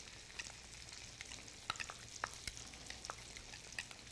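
Spoon stirring a Cajun spice mix into soft compound butter in a bowl: quiet, soft scraping and smearing with scattered light taps against the dish, close up and faint, no speech.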